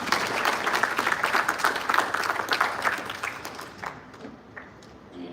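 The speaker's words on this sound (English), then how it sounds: "So please give her another round of applause." An audience applauds a speaker at a live event, with brisk, dense clapping over the first three seconds that thins into a few scattered claps before fading out.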